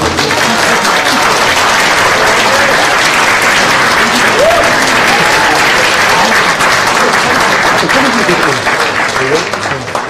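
Loud, continuous applause from a large crowd at a Korean political party youth event, dense clapping sustained throughout with crowd murmur underneath.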